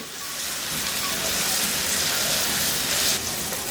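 A flat bean mixture for sim paturi fries in a pan, giving a steady, loud sizzling hiss that holds evenly throughout.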